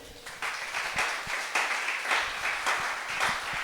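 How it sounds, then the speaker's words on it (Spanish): A church congregation at a Sunday general service claps in a steady burst of applause lasting a few seconds, moderately loud and filling the room, with no voices rising above it. "¿Le podrás dar un aplauso a Él?"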